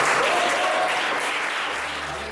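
A church congregation applauding together, dense loud clapping that fades gradually toward the end.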